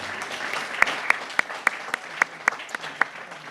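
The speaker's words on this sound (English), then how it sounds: "Let's have a round of applause for them." Sparse, light clapping from a few hands at a chamber of commerce legislative reception, with separate sharp claps at an uneven rhythm over a soft murmur of room noise.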